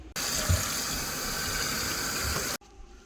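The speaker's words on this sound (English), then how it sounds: "And then I'm going to give it another rinse so that way I can make sure I rinse all the salt off." Tap water runs steadily into a kitchen sink while collard greens are rinsed to wash off salt, a close, even hiss that starts abruptly and cuts off sharply near the end.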